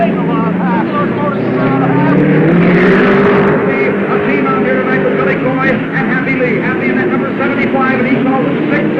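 Race cars from 1949 surge off the start toward a 40-lap main event, engines droning and rising together as the pack passes, while an announcer talks over the roar.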